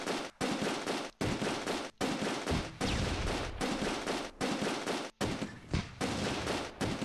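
A Browning machine gun fires in the Close Combat II war game, delivering a series of sharp, loud bursts of rapid shots separated by brief silent gaps.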